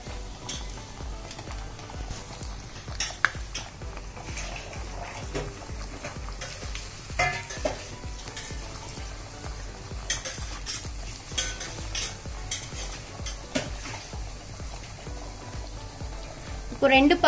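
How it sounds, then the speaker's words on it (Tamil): Taco shells frying in a pan of hot oil, for a naked chicken taco, give a steady close sizzle with frequent stirring and scraping clicks, while a voice talks over parts of it. "கொஞ்சம் அது நல்லா பொறியட்டும்."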